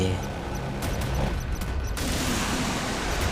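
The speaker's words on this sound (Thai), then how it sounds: "จับรัวปืนกลเข้าไปครับ แล้วก็ทิ้งระเบิด" Rapid bursts of Modern Warfare machine gun fire crackle over a dense, noisy game soundscape, loud and continuous, with a brief heavier rattle in the middle.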